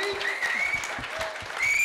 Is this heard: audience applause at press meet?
yes